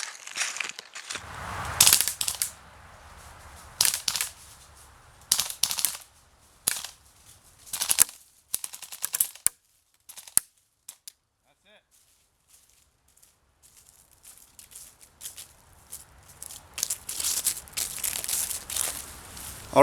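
A WE G39C gas blowback airsoft rifle fires in bursts of sharp cracking shots at barrels outdoors, with pauses between strings and a person talking during the later part.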